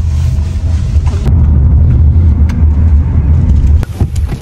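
Steady low engine rumble and road noise from inside a car being driven, loud and continuous with some wind buffeting, no voices.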